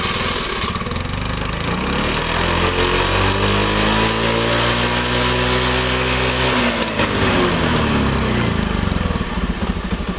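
A Honda Beat scooter engine idles steadily and loudly up close after being restarted, with a brief dip in engine pitch midway before it settles back into a constant drone.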